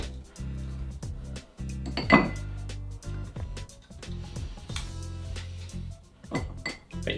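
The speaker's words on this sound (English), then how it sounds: "So get a rocks glass now and put in 3 big ice cubes," Big ice cubes clink and knock into a rocks glass while a screwball cocktail is made, a close, bright rattle with one sharp clatter near the middle and lighter clinks throughout, with no talk.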